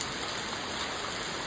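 Heavy rain pouring down outside an apartment balcony at the Jersey shore: a dense, continuous, loud hiss of falling water hitting surfaces, steady and unbroken with no voices.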